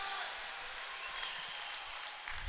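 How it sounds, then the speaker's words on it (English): Hockey arena crowd at Fox Valley during an NIU versus Missouri State game, a steady, fairly faint roar of cheering fans with a broad wash of noise and no distinct claps, continuous throughout and swelling slightly at the end. "And listen to the crowd. They're ready, man."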